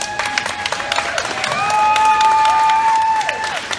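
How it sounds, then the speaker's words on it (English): Applause and some cheering from a crowd at a dog adoption charity event, rising in the second half while a sustained whistle-like tone sweeps across it. "Can we get applause for Deb?"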